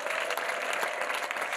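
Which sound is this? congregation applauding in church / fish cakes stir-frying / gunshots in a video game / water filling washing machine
congregation applauding in church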